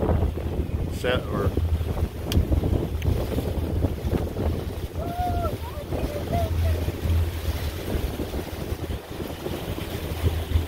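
Motorboat cruising across San Diego Harbor, engine drone steady and loud beneath heavy wind buffeting the microphone, with brief talk from people aboard.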